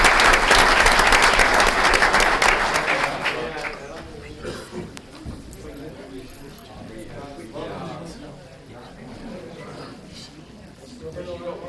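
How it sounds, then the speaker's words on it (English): Applause for student athletes at a school district board meeting, a loud burst of many hands clapping that fades after a few seconds into scattered claps and room murmur. "A nice round of applause for all of our athletes,"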